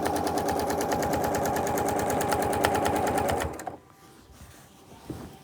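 A sewing machine quilting straight lines in the ditch on a plaid-shirt memorial quilt runs in a fast, steady mechanical patter for several seconds, then stops abruptly, leaving quiet room tone and a faint knock.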